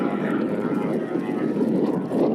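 A twin-engine propeller airplane with twin 450 horsepower engines flies at the Houston air show, giving a steady, loud engine drone with airy wash and no voices over it.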